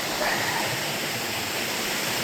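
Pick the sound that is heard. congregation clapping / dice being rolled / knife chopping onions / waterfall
waterfall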